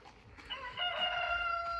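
Chickens clucking and a rooster crowing up close, the calls swelling into a sustained, strained crow in the second half.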